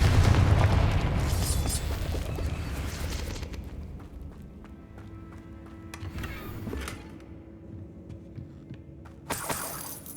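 A Confringo blasting curse detonates in the Hogwarts Legacy game, a loud rumbling boom that decays into a long fading tail, with a second sharp blast near the end.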